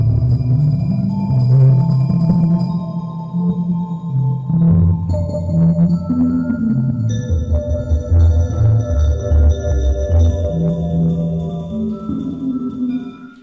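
Electronic sonification of a hexagonal six-sided structure turned into a mathematical equation, played through a MaxMSP patch: layered shifting tones and chirping, sonar-like pitches over a low rumble, continuous and moderately loud with no voices.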